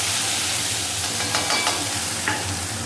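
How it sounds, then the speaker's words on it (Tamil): Onions sizzle in hot oil in a kadai for a mushroom gravy, a constant close frying hiss with a low hum beneath and a few brief utensil clicks, no voices. "இப்போ நம்ம வடசட்டில் எண்ணெயை ஊற்றிட்டு இங்கே பாருங்கள், வெங்காயத்தை போடுங்க."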